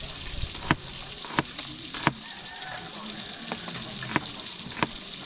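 Chopped onions sizzle softly in a hot pan, a quiet steady frying hiss broken by a few sharp taps and clicks at regular intervals.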